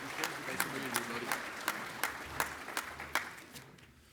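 Audience applause for patrons at a conference welcome session, steady clapping from a crowd with sharp individual claps standing out, fading slightly toward the end.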